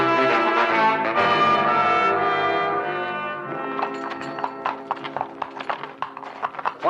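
Horses walking in an old-time radio Western, with their hooves clip-clopping as steady, sharp taps that rise out of a fading musical tone.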